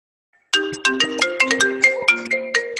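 A mobile phone ringtone goes off mid-way through a Zoom question-and-answer session, a loud repeating melodic pattern of bright electronic tones that plays steadily after a brief silence, with no talking over it.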